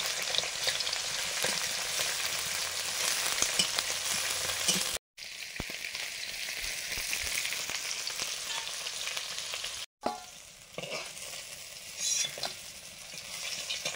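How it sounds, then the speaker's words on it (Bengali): Bay leaf, dried chilli, five-spice and chopped onion sizzle steadily in hot oil for dal tempering, a close, continuous frying hiss with occasional stirring scrapes, briefly cut by two short gaps. "ফোড়ন দেব, তেজপাতা, শুকনো লঙ্কা আর 5 ফোড়ন দিয়েছি, একটু পেঁয়াজ কুচি দিলাম।"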